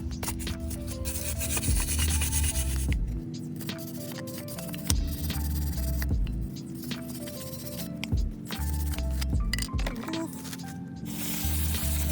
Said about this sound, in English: So I'm gonna use the brush again.